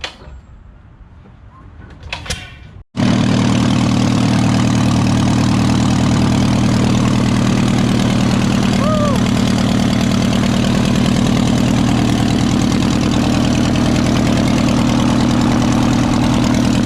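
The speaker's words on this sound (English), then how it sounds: "hopefully this carburetor will be all cleaned up and it's gonna run the airboat" Airboat engine with a freshly cleaned carburetor, quiet handling noises, then a sharp start into a loud, steady, close engine drone that runs unbroken to the end.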